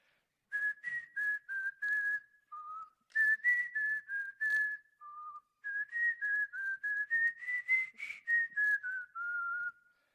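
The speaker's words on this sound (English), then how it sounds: "So I start whistling one of my favorite songs." A person whistles a melodic tune alone, clear bright phrases with short pauses between them, rising and falling steadily.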